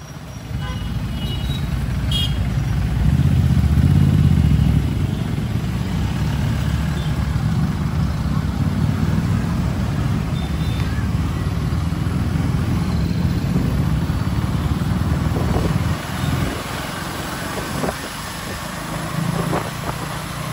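A 2025 KTM Duke 390 motorcycle being ridden, with a steady engine drone and rushing wind noise throughout, swelling louder early on and easing slightly with a few brief changes in tone that may mark smooth gear shifts.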